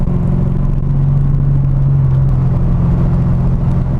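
Low, rumbling engine drone from a Corvette cruising through town, steady and loud throughout with a smooth hum and no speech.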